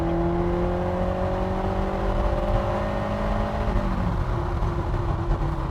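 A Lotus Esprit S4 accelerates hard, its engine note climbing steadily in pitch as the car pulls through the gear before easing off, heard from inside the cabin.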